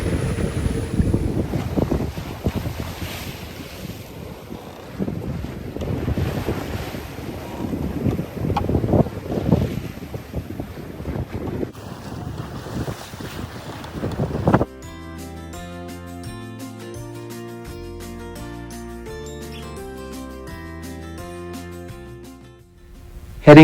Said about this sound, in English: Headed downwind from Ucluelet to Tofino in some fairly big swells and 15-knot winds.